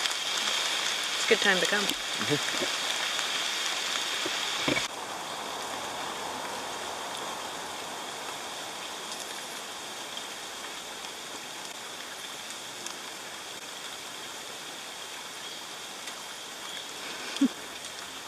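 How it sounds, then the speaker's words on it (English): Steady rain patters on surfaces all around at Blue Hole National Park in Belize, a continuous even hiss; a person speaks briefly near the start. "Started raining."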